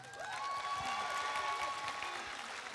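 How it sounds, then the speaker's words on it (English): Sustained audience applause at a convention actors' panel in Toulouse, a dense even clatter of many hands that fills the room, with voices chattering faintly underneath. "Je voudrais que, s'il vous plaît, que vous applaudissiez aussi notre traductrice de choc et de charme."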